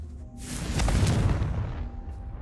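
A Confringo blasting spell explodes in the video game Hogwarts Legacy, a loud, close, roaring burst that swells quickly and then trails off into a rumbling decay.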